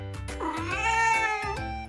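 A cartoon cat in an animated Easter story meows loudly with a long, wavering, drawn-out yowl over about two seconds, close and clear with no talking.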